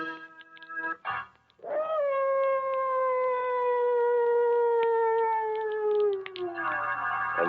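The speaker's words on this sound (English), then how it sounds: "mad dogs howling in the background" In an old radio horror drama set in Africa, a mad dog lets out one long, loud, mournful howl that slowly falls in pitch, with shorter yelping cries just before it.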